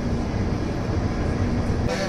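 At Araku station on the Vizag to Araku line, a passenger train with a Vistadome glass coach pulls away, giving a steady low rumble with a faint hum, nearby and continuous.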